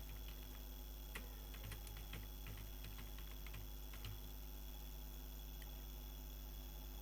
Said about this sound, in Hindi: यहाँ पे हम इसको टाइप कर लेते हैं